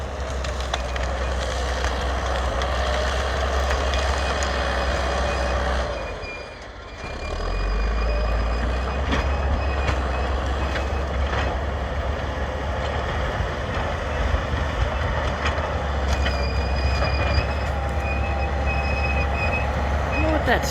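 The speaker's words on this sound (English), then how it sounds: "I don't know what that squeal is on there." A log-hauling tracked machine carrying wood for a portable sawmill rumbles steadily up close, its tracks letting out thin, recurring high squeals over the deep engine drone, with a brief dip in the noise partway through.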